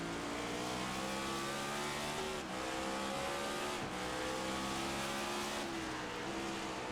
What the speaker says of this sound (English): he's downshifting 3 gears? Is that what I'm hearing?